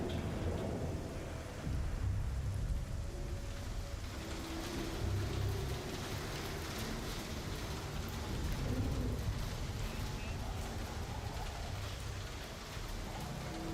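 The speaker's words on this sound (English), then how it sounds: "You can still hear the rain and the thunder." Rain and rolling thunder in the Star Citizen video game, a dense continuous downpour with low rumbles swelling and fading throughout, steady and immersive with no voices.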